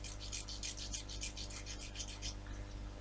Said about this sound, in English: Okay, so I'll just sand this down gently.